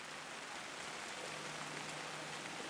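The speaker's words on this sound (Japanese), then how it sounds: "この雨は柳田先生の涙雨やな" Steady rain falls as an even, soft hiss of drops with no pauses, quiet and constant, with a faint low hum underneath.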